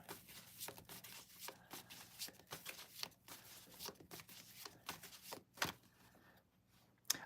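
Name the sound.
shuffling cards to pull a reading card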